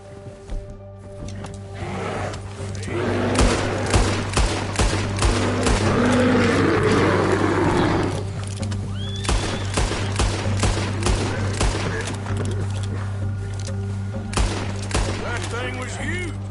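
Repeated gunshots from Red Dead Redemption 2 ring out in sharp, irregular bursts across the scene, loud and close, with a game soundtrack and hunting-scene ambience underneath and people talking at moments.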